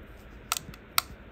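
Film pulled through a Kodak Ektar H35 camera turns the sprocket wheels, giving two small dry mechanical clicks about half a second apart, close and quiet against near silence.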